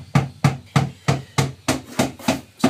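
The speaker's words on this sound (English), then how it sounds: "Sorry for the hammering." Hammer blows land in a steady, even rhythm during plumbing work on a tiny house, about eight sharp, close, loud strikes that ring out alone with no talk.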